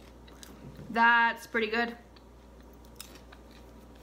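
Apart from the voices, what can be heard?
chewing sweet butter caramel popcorn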